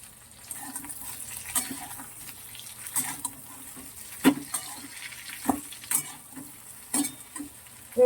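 Vegetables fry in a pan with a ground paste of ginger, panch phoron and mustard, giving a steady soft sizzle broken by scattered scraping stirs and light knocks, close and fairly quiet with no talking.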